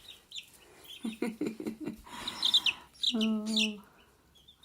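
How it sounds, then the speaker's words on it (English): Young chicks give a few high, short cheeps in quick bursts, close by, mixed with a brief human voice and some clucking-like sounds. "Cheepity cheep, cheep, cheep, cheep, cheep."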